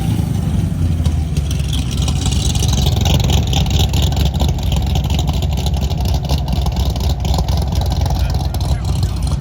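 Cars rolling in at a Cars and Coffee meet in Morrisville: a steady, loud engine rumble with occasional revving from nearby vehicles, continuous outdoors throughout.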